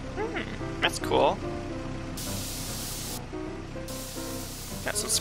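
In a video game, a can of spray paint gives two hissing bursts of about a second each, with game sounds and a person talking throughout.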